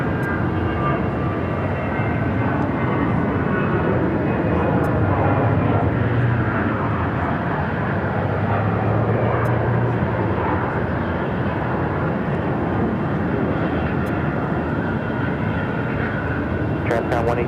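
Airliner taking off from runway 7 left at Phoenix airport, a loud, sustained roar of jet engines holding steady throughout, with faint radio chatter in the background.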